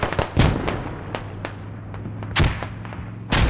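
Mortar shell explosions in a military shooter game, several sharp blasts and thumps at irregular intervals, a couple of loud near impacts standing out over a low rumbling backdrop.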